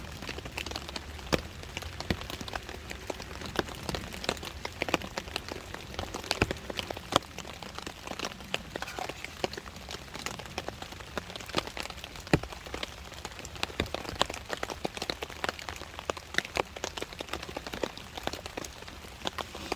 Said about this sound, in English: It's just been this consistent, steady rain.